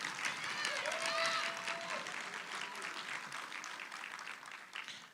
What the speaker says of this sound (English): Let's give Sakbo a good round of applause.